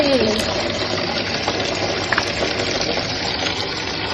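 Water runs and pours steadily while a small child is bathed, a continuous close gush with a brief voice at the start and a few light splashes.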